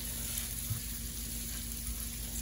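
Chopped onion sautés in hot bacon fat with a steady, soft sizzle and crackle, continuous and close, with no talking.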